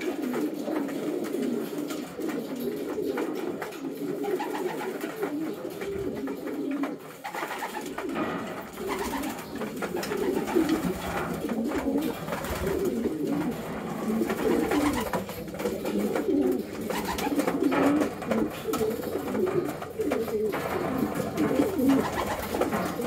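Several pigeons coo steadily nearby, a soft continuous chorus of low throaty calls running unbroken for over twenty seconds, with light rustling and no speech.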